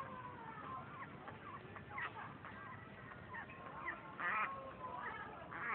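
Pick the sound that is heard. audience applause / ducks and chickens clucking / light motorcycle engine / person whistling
ducks and chickens clucking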